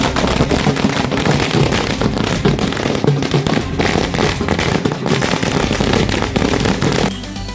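Loud, dense crackling bursts of firecrackers going off continuously at a celebration at a memorial in Pimpri Chinchwad, a rapid chain of sharp pops that stops abruptly near the end.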